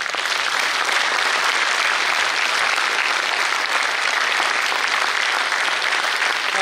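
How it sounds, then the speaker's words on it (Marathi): A large audience at a Marathi discourse and powada performance in Thane breaks into sustained, loud, dense clapping that stays even throughout, with no talk over it. "सगळ्या ठाण्याला ऐकू जाईल एवढा टाळ्यांचा गजर करा"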